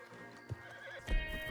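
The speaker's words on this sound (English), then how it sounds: "Marston, you're gonna tether him up to Javier's horse." A horse in the Red Dead Redemption 2 game gives a short whinny while hooves clip-clop, as a stallion is led and tethered; a brief, fairly quiet burst of hoofbeats follows near the end.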